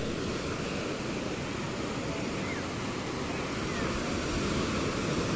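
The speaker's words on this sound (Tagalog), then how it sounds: "Lakas pa ng agos." Ocean surf churning with a strong current, a steady loud wash of breaking waves and rushing water filling the whole clip without pause, with wind buffeting the microphone throughout.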